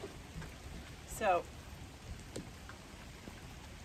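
Rain patters steadily outdoors on a deck during a yoga class, a soft continuous wash of drops with a brief louder sound in the middle and a single spoken word.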